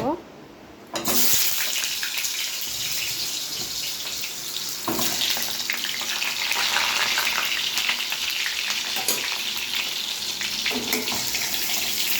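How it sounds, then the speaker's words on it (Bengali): Potatoes frying in hot oil, a steady loud broadband sizzle that surges in after a brief quieter opening and runs continuously, with occasional clatter from stirring. "আমি এবার আলুটা ভেজে নেব।"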